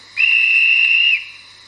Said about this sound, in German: Als nächstes ein Schaffnerpfiff.